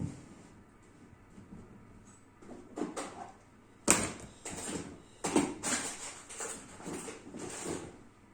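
Drawers of a craft supply storage unit are pulled open, giving scattered sharp clacks and sliding rattles that start quietly, then grow louder and busier in the second half, with no talking.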